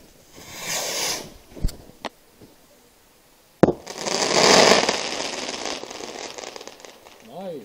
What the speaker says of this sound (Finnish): Raketti.